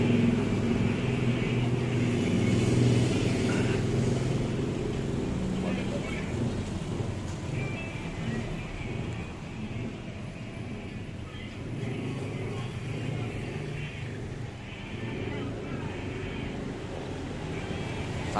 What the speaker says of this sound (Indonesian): cuman agak sedikit berisik aja, ya, karena depannya jalan